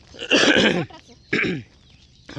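A woman coughing twice at close range, a harsh rasping burst followed by a shorter one, with a cold and throat irritation, outdoors during a morning walk.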